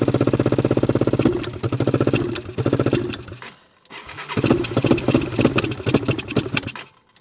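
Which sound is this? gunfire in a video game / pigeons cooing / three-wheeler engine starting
three-wheeler engine starting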